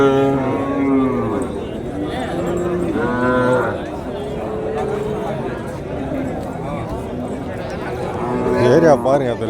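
Native cattle lowing repeatedly at a busy livestock market, several calves and cows mooing near and far over a steady hubbub of crowd chatter and talking voices.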